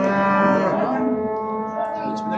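A single long, loud cow moo rings out close by at the Qarshi cattle market, a deep harmonic bellow that bends downward and fades, with faint market noise behind.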